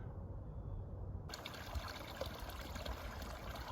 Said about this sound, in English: this is an excellent example of what's known as a piped spring